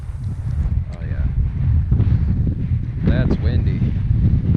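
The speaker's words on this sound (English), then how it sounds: "That's windy." Strong wind buffets the microphone while fishing from a boat, a loud continuous low roar with gusty swells, and a person talks briefly over it.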